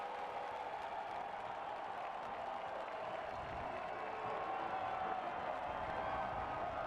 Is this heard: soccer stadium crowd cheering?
yes